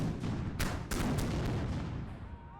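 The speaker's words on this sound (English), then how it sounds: "At this distance, cannon can be fired with accuracy into the city." A dense cannon barrage rumbles in a continuous, booming wash of artillery fire with a few sharper reports standing out, loud and enveloping, fading slightly toward the end.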